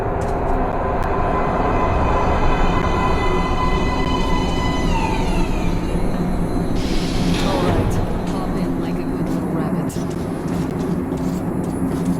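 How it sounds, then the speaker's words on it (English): A subway train arrives at a platform in the video game Metro Last Light Redux, with a loud, continuous rumble and a rising metallic squeal of brakes. A brief hiss comes near the middle. "Please step away from the edge of the platform. Train coming in."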